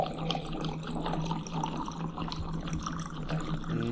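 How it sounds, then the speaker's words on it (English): A water dispenser sends a steady stream of water pouring and splashing close by, running continuously for a few seconds at moderate volume. "It dispenses water"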